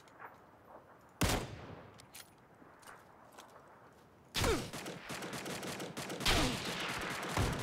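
Rifle gunshots in PUBG Battlegrounds, a sharp single crack followed a few seconds later by a loud rapid burst of close shots with echoing tails, then another burst.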